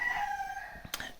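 Chickens cluck and call briefly inside an old stable in Finland, a short, moderately close drawn-out cry followed by a quick sharp sound.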